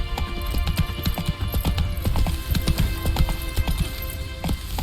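Roach, a horse in The Witcher 3, gallops with rapid, steady clip-clop hoofbeats, loud and close, over a continuous game backdrop with a brief whinny-like hint.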